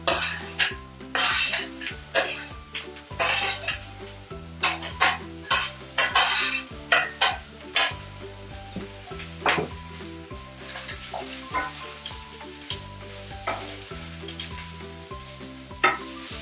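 Paneer sautés and sizzles in a pan while a utensil scrapes and clinks against the metal in repeated stirring strokes, with a steady frying hiss underneath and no talk.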